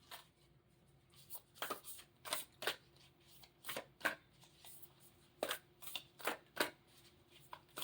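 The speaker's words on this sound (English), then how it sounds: "I'm going to give them a good shuffle" Tarot cards are shuffled close by, with soft, irregular bursts of riffling and slapping in a quiet room.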